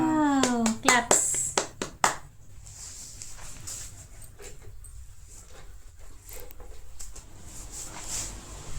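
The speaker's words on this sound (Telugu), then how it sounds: "క్లాప్స్." A group claps hands together during a small home celebration for reaching 100 subscribers, with a burst of sharp claps after a voice at the start, then a quieter room with faint movement.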